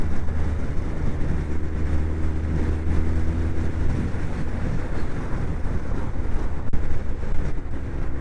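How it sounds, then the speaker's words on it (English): Strong wind buffets the microphone during a Suzuki GSX 1400 motorcycle ride in a continuous low rumble, with a constant roar underneath and no speech. "Very windy"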